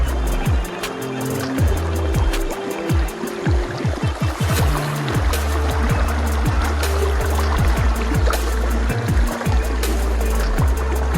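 Water runs out of an oxbow lake toward the Desna river with a steady rushing flow. Low engine hum and repeated revving sweeps sound over it, and no one speaks.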